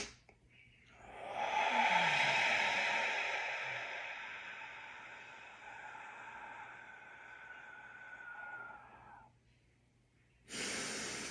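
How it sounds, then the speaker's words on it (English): A slow, relaxed exhale through an open mouth, a long breathy rush that swells early and then tapers over several seconds before a brief pause and a fresh breath. "slow exhale. Mouth open, just nice and relaxed. Full exhale."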